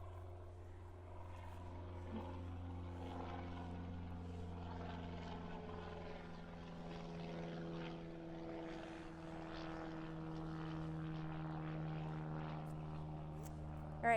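A propeller airplane drones steadily overhead, a faint, continuous engine hum with layered tones and no clear approach or fade over the whole stretch.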